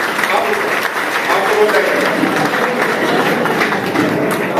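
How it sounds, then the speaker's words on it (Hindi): An audience claps steadily, a dense, even wash of applause that holds at a constant level throughout. "शमशाद जी के लिए जोरदार ताली बजाइए।"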